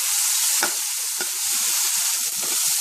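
Chopped onions sauté in a pan for butter chicken, a bright steady sizzle with a few stirring scrapes and clicks of a utensil, close and fairly loud with no voices.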